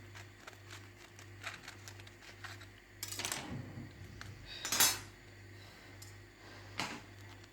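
A knife cuts into a baked profiterole choux shell on a plate, with light metallic taps and scrapes against the dish and a couple of sharper clinks, over a low steady hum.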